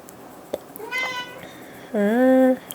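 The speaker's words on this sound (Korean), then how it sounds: "저희 고양이에요, 쟤는." A cat meows twice nearby, a short rising call followed by a longer, louder drawn-out meow, with a faint tap before them.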